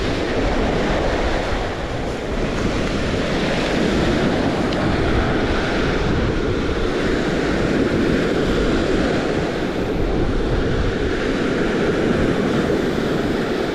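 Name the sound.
wind and waves on a Lake Erie beach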